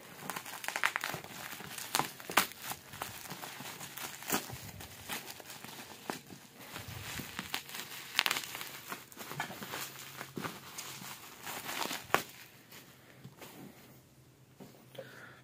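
Plastic packaging crinkles and rustles in irregular bursts while manga volumes are unboxed, close and fairly quiet, with sharper crackles scattered throughout and a calmer stretch near the end.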